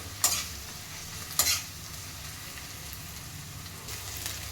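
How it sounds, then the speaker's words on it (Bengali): Garlic paste fries in a pan with onions for a Bengali fish curry, giving a steady low sizzle broken by two sharp knocks of a stirring utensil early on. "এবার এই লসুন বাটাটাকেও একটু কিছুক্ষণ ভেজে নিতে হবে"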